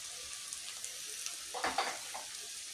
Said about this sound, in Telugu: కొంచెం నూనె ఉంటుంది, కింద అంటుకోకుండా కదుగుతానండి.